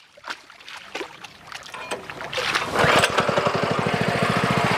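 A Sraja 8 hp power tiller engine starts up outdoors. Scattered knocks come first, then a loud, steady, rapid engine putter settles in and holds close by.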